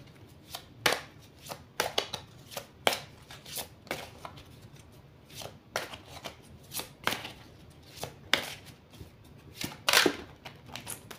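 Oracle cards are shuffled by hand in repeated crisp riffling bursts, close and fairly quiet, with short pauses between each flurry and no talking.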